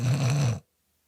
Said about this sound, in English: She never snored before.